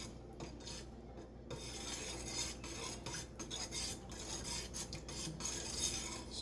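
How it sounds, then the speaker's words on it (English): Steady scraping and swishing of a spoon stirring a pale ale brew with orange peel in a metal pot, continuous rhythmic strokes, close and fairly full, with no talking. "Stir this real good."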